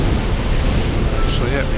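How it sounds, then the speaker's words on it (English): Fire attack explosions in Dark Souls, a loud continuous roaring blast filling the clip, with a brief higher burst near the end. "So just bombarding him with fire."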